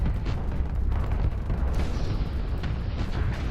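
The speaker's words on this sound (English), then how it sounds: "High explosive mortar hitting a sentry." High explosive mortar rounds strike ships in the space combat game Starsector, a dense barrage of overlapping booms and blasts rumbling continuously without a break.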